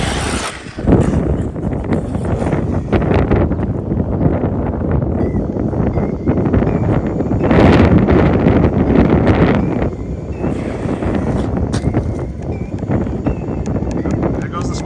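Strong outdoor wind buffets the microphone in a loud, continuous roar while an RC car is flown through the air, with gusts swelling midway and little else standing out.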